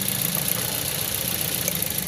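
A car engine runs with a misfire after an ignition coil change, giving a steady, close, uneven idle hum with a rough vibrating character throughout.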